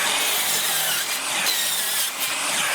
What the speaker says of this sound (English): So now I just got to make the cuts on the miter saw.